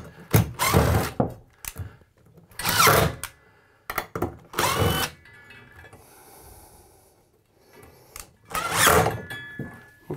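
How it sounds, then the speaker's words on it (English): Several short bursts of a power drill whirring near the listener as it removes screws from a plumbing valve, separated by brief pauses and a few clunks, with no talking. "take my drill and we're going to disengage"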